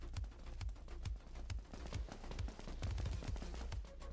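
Repeated gunshots from an X Python pistol in the zombie shooter game Dead Frontier, firing in a quick irregular rhythm of sharp, close thuds with a busy game soundscape underneath.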